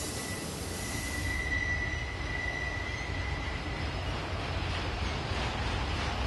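Norfolk Southern freight train climbing the East Slope grade between Altoona and Cresson in autumn, a steady loud rumble of locomotives and rolling cars with a thin wheel squeal in the first few seconds, no voices.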